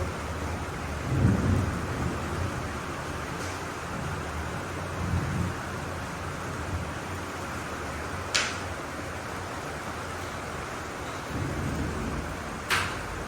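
Hailstones pelt a house during a thunderstorm, a dense, steady hiss of falling ice and rain with a few sharp cracks and low rumbles of thunder, continuous and without talking.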